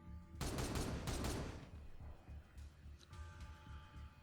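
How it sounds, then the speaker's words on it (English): Gunfire in the Warhammer 40k Regicide video game, a rapid burst of shots followed by rolling, rumbling battle noise and fainter reports. "Firing on target!"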